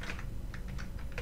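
Typing on a computer keyboard, entering an email address: a quick run of light, close key clicks in an uneven rhythm, heard alone with no voices.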